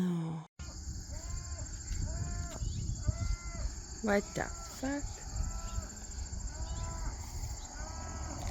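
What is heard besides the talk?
cow mooing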